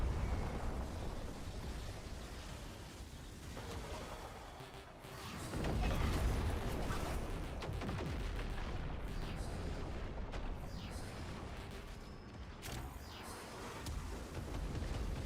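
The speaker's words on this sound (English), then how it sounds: "The big ship has guns and the guns hurt." Heavy guns on a big enemy ship in a video game firing in a sustained, rumbling barrage of booms and blasts, with a louder burst midway, steady and close throughout.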